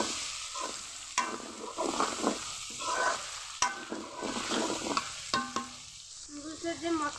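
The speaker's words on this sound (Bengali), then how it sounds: "ঢাকা দিয়ে সবজিগুলো ভেজে নেব।" Winter vegetables are stirred and fried in a wok for noodles, with repeated scraping strokes of a spatula over a steady sizzle, close and fairly loud with no talking.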